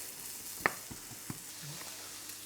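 Onions sizzle steadily in a hot pan in a Chinese takeaway kitchen, with a soft, continuous frying hiss and a few faint clicks of stirring close by.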